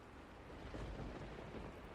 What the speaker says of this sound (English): The sound of the storm, muffled, but powerful enough that you can still hear it deep below the building